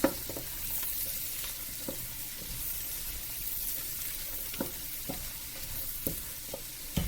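Cabbage sizzles steadily in bacon fat while a utensil stirs and scrapes it around the pan, with regular clacks over a constant close frying hiss.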